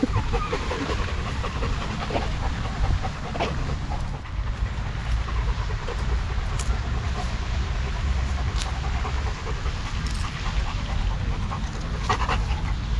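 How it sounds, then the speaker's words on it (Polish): A dog, wet after drinking water, pants rapidly and steadily up close, its quick breaths continuing throughout against a noisy outdoor background. "Mój ty mokry, zadowolony piesku."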